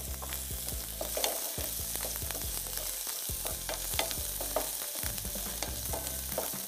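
Garlic, ginger, cumin and cardamom frying in a pan, a dense continuous sizzle broken by repeated scraping stirs, close and steady with a low hum underneath and no talking.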